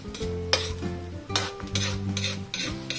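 Chopped onions frying in oil in a pan while cooking chicken pastil, with soft sizzling under repeated metal utensil scrapes and clinks against the pan in an irregular stirring rhythm.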